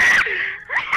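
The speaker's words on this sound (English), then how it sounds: "Who is screaming?" A shrill, wheezing scream in the Rec Room game Make It To Midnight rises in two loud bursts with a dip between them, heard alone and close.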